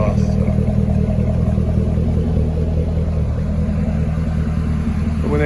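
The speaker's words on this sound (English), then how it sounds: "That sounds really good. It really does for being factory stock exhaust." A Chevrolet Corvette C6 with factory stock exhaust runs at a steady idle, a close, loud, deep rumble with a faint mechanical clatter that holds constant throughout.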